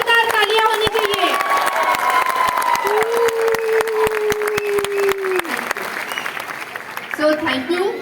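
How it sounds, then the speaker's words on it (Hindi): Loud applause and cheering from a crowd at a Modicare success-story event, dense clapping throughout while a voice sings or calls out with sustained tones over the top. "जोरदार तालियां होनी चाहिए"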